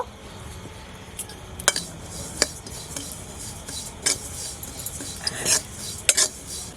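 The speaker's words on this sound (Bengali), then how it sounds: "এগুলো তিলগুলো হালকা ভাজা দিয়ে নেব" Sesame seeds dry-roasting in a pan, with soft rustling and scattered sharp clinks and scrapes of a spoon against the metal at irregular intervals, fairly close and quiet.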